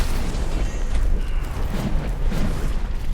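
Fiery enemy attacks burst repeatedly in the video game Mortal Shell, deep rumbling booms and blasts rolling one after another in a dense, loud wash with no pauses.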